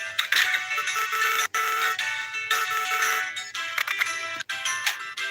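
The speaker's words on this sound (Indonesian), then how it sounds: "Notif." A phone notification plays a bright, melodic chime, repeating in short bursts with brief gaps, loud and close with no talking.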